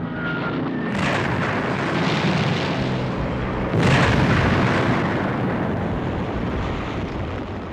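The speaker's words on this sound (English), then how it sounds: "bombers were sent to pound them in the cities of Angoulême and Poitiers." Loud, dense roar of World War II bomber aircraft during a bombing raid, a continuous rumbling wall of engine noise and blasts with sudden surges in intensity, close and overwhelming.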